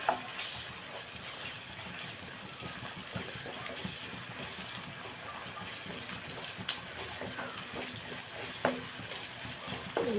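Ginger garlic paste frying in a pan for mutton gongura curry: a steady, quiet sizzle throughout with occasional light clinks and scrapes of a utensil, close and unbroken by talk.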